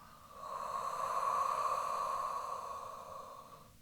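A single long, deep breath out during a Pilates exercise, a soft airy exhale that swells and slowly fades over a few seconds, close and quiet with no talking.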